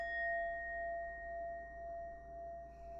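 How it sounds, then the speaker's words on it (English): A single struck bell rings out once and sustains a clear, steady tone that slowly fades over a few seconds in a quiet room, with no voices over it. "Ring a bell to help us switch gears."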